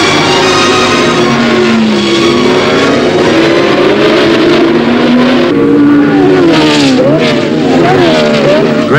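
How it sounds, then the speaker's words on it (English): Race cars, including a BRM, a Surtees Ferrari and a Brabham Climax, roar at the International Trophy race at Silverstone. Loud, continuous engine noise rises and falls in pitch as the cars accelerate and pass close by. "It's the international trophy race at Silverstone."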